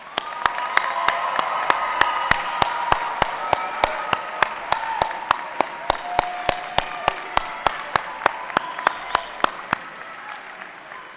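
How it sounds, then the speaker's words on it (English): Sustained applause from a commencement audience honoring the December graduating class, a dense wash of clapping with sharp, regularly spaced claps standing out on top, steady throughout. "A final round of applause for this year's December graduating class."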